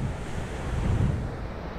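Sea waves wash onto a beach, a soft low rumbling surge with wind buffeting the microphone, fairly faint and steady.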